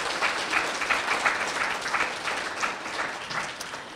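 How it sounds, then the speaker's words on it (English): Lively, dense applause from a school-event audience thanking sponsors, many hands clapping together at a steady level throughout. "Let's give a round of applause for our sponsors today."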